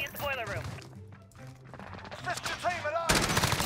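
Shotgun fire in Modern Warfare multiplayer comes as a few sharp game blasts, the loudest burst near the end, over busy in-game sound effects.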